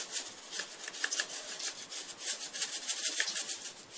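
Hands mixing a chicken meatball mixture in a bowl, giving a continuous close, soft squelching and rubbing sound with an uneven rhythm of pulses, heard alone without talk.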